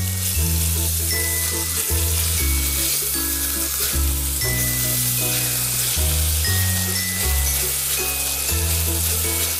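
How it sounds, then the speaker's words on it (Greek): Steady, close frying hiss from meat being sautéed in a pot, just starting to stick to the bottom, sizzling continuously with no one speaking. "Εδώ, όπως σοτάρω το κρέας, αρχίζει και πιάνει κάτω."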